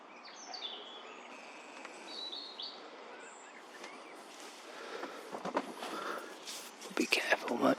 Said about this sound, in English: Enjoy the bird song.